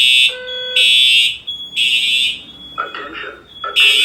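A Simplex fire alarm under test sounds in repeated loud, shrill horn blasts of about half a second to a second each, with brief gaps and a few softer tones between.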